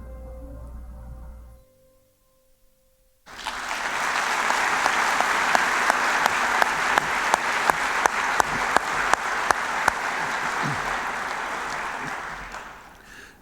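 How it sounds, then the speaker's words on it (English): An audience at the 2022 South Dakota High School Sports Awards applauds a Courage Award recipient; after a brief murmur and near silence, loud sustained clapping bursts in and carries on before fading slightly. "please join me in giving a big round of applause to our 2022 Courage Award recipient, Maggie Schaefer"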